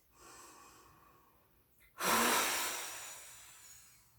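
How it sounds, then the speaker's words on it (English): A loud, forceful yoga breath: a long inhale, then a sharp, rushing exhale that fades out over a couple of seconds. "Breathing in and out."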